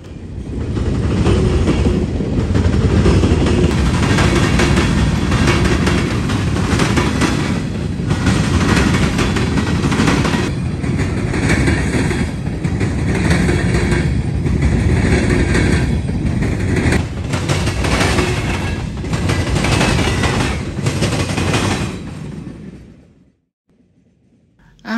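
A westbound Norfolk Southern freight train rolls past close by, a loud sustained rumble and rattle of wagons with rhythmic clatter that cuts off abruptly near the end.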